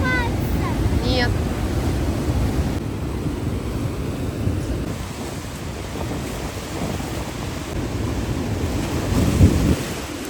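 Heavy surf pounds the shore on the south of Gran Canaria, a steady deep roar of breaking waves mixed with gusty wind noise, a couple of faint bird calls early on.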